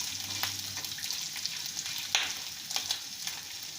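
Onion fries in a pan for sabudana tomato khichdi, a soft steady sizzle with a few light stirring scrapes and taps, fairly faint and close, with no talking.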